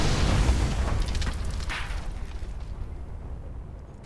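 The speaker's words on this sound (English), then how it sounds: "that we can get both these transfer tanks with one kaboom?" Explosion of fuel transfer tanks in the video game Mad Max: a loud, deep boom bursts out at once, then rumbles and slowly dies away over several seconds, with no talking.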